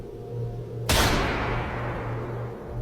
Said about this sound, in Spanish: Un disparo se escuchó a lo lejos, en lo profundo del bosque.